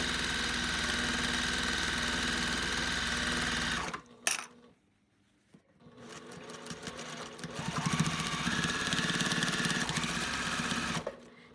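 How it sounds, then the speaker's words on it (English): A sewing machine sews the side seam of a fabric hat, humming steadily and loudly up close, then briefly stopping before starting again for a second long run. "now you're going to sew this hat along the side"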